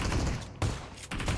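Pump shotgun shots in PUBG Mobile during a competitive regional match, two or three loud booming reports in quick succession with a brief gap between each, heard alone without talk.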